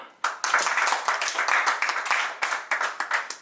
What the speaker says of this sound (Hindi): तालियां कैमरे में कैद हो रहे हैं